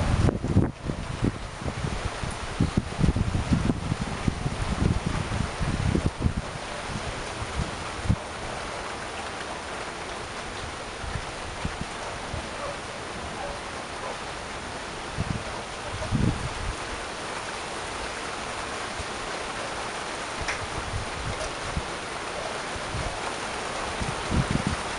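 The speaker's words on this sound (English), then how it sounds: "a little bit of wind and rain" Blustery wind and rain during an isolated severe thunderstorm, a steady broadband wash of rainfall with gusty low rumbles buffeting the microphone, stronger in the first few seconds and again around sixteen seconds.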